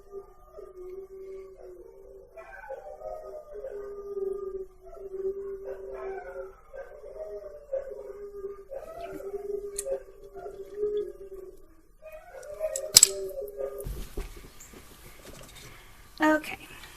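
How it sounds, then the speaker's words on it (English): Dogs howl in the background indoors, a long run of wavering, drawn-out tonal cries rising and falling for most of the stretch, then fading into clatter and brief rustling noises. "my dogs have decided it's time for a howl"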